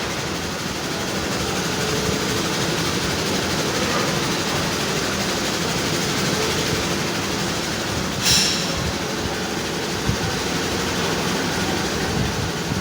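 A condenser fan motor running at about 900 RPM gives a steady, loud broadband whir and rush that holds constant throughout, with a faint click near the end and no talking.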